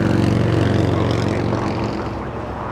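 A Boeing 747-8 jet taxiing on taxiway Lima at LAX gives off a steady, loud, continuous engine roar and whine that holds evenly throughout, with no voices.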